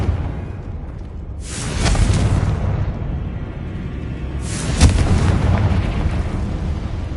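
Two Confringo spell explosions in a Harry Potter video game, each a loud, deep booming burst with a long rumbling tail, spaced about three seconds apart over steady low background noise.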